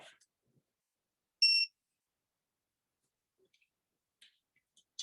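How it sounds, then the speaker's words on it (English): A single short electronic beep from a digital torque wrench as a spark plug is tightened to 12 foot-pounds, clear and fairly quiet, in otherwise near silence with a few faint clicks. "Tighten the spark plug till you hear a buzz and beep."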